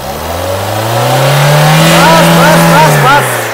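A Ford EcoSport engine revs up loudly nearby, climbing to a sustained high rev before falling back as the throttle eases, and a faint whine can be heard along with it.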